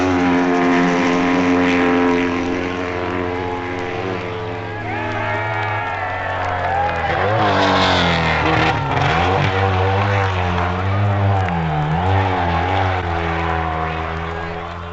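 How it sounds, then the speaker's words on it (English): A British BSA sidecar outfit with a Watsonian chair races in the Isle of Man sidecar TT. Its engine roars loud and close, rising and falling in pitch through gear changes and throttle sweeps as it passes. "home to victory roared Chris Vincent and Eric Bliss on their BSA Watsonian"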